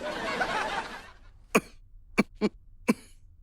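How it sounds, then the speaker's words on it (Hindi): A man coughs four times in sharp, separate bursts, loud and close, following a brief stretch of muffled rustling, with no talking. "खांस क्यों रहे हो?"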